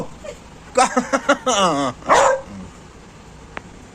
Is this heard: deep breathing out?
no